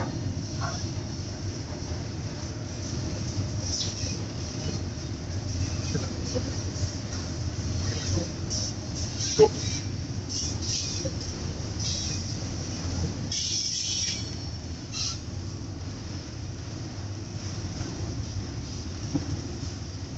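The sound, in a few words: long train passing at railway festival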